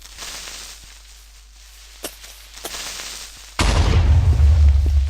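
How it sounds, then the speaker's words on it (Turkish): After a few soft clicks, a Minecraft creeper explodes with a sudden loud boom, and its deep rumble carries on to the end. "Gördüğünüz gibi patladı yani. Darma duman oluyor."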